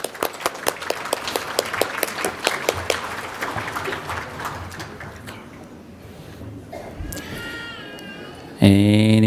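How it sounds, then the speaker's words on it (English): A conference audience applauds to welcome a speaker, quick claps spreading through the room and fading out, followed by a loud burst of a voice close to the microphone. "Give him a warm round of applause"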